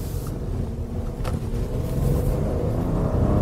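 A 2012 Audi A6 with a turbo engine pulls away from a standstill, its engine note a steady low rumble that swells gradually as it gains speed, heard from inside the car with no talking.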